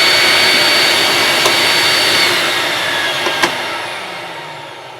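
An Electrolux Z5010 Excellio vacuum cleaner runs on its maximum setting, a loud, steady, close-up roar that holds without a break and tapers slightly toward the end, with no talking.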